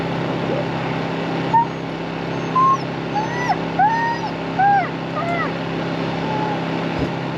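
Dogs confined in a truck whimper and yip in a string of short high whines over a steady engine hum, fairly close and clear.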